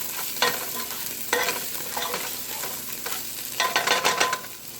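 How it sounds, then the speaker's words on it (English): Green chilies stirred into a shrimp curry in a pan, a close sizzle under repeated bursts of spoon scraping and stirring. "And give this a little mix."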